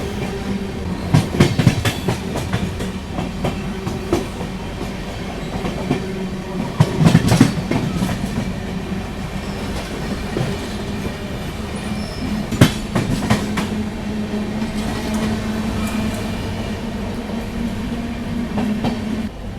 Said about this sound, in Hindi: बिफोर टाइम अभी भी चल रही है अपनी ट्रेन